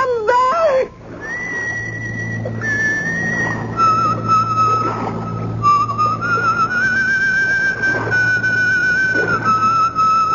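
A person whistles a wavering, sustained melody, clear and close, drifting up and down in pitch over a low steady hum.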